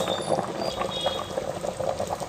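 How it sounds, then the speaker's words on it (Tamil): Mutton trotter paya bubbles away in a pot, a steady close simmer of popping bubbles and churning liquid that continues without pause and without talking. "ஆட்டுக்கால் பாயை நல்லா கொதிச்சு ரெடி ஆகிட்டு இருக்குங்க"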